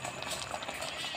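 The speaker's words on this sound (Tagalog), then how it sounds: "Kumukulo na yung sinabawan natin." Fish soup with lapu-lapu bubbling at a steady rolling boil in a pot, a dense, continuous, close-up simmer of popping bubbles, with a voice talking briefly nearby.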